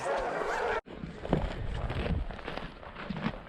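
Sled dogs bark and yip in a busy, overlapping chorus, with excited whimpers and scuffling underneath, fairly close by, on a lake.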